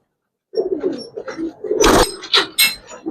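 Giribaz coloring pigeons coo inside a loft, several soft low murmuring calls overlapping close by, with a couple of louder flapping or scuffling bursts near the end.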